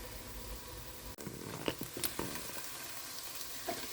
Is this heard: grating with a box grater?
no